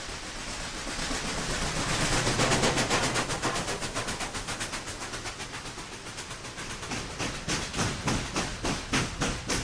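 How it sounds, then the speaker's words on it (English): A steam locomotive approaches in fog, chugging with a steady, loud rhythmic puffing that grows and pulses, its beats quickening toward the end. "We heard the engine long before we saw it coming."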